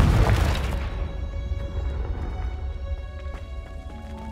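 The Confringo explosive spell cast in Hogwarts Legacy: a single loud, close boom that decays into a lingering rumble with ringing, metallic tones trailing off over several seconds.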